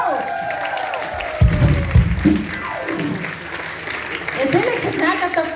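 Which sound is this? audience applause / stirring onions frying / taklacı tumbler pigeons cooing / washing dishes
audience applause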